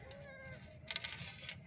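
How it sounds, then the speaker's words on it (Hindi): Goats and young kids bleating in a village in Pakistan, a couple of faint, wavering cries with light rustling and other farmyard noise around them. "ये देखें जी, बकरी है, और बकरी के मेमने"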